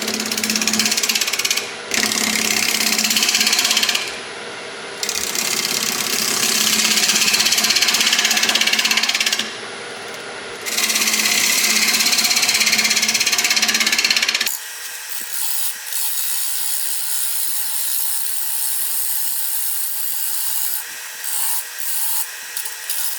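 A freshly sharpened turning tool cuts shavings from a magnolia bowl on a lathe, making a loud, steady rasping hiss with brief dips as the cut pauses, then a lighter, thinner scraping in the final stretch.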